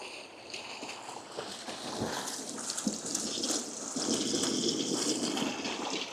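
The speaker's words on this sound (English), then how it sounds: "Very nice water feature right there" Water splashes steadily from a public water feature on the Polish Baltic coast as hands are rinsed under it, the gush swelling louder toward the end, close by and without talk.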